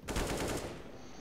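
A short, loud burst of gunfire in Counter-Strike, several quick shots fused into one rattling spray lasting under a second, then fading.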